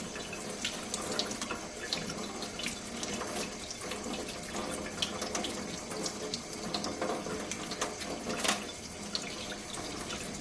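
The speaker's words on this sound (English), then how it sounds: "And then put the egg under running water." Peeled hard-boiled egg rinsed under a running kitchen tap, a steady close splashing water stream with small irregular drips and spatters throughout, no talking.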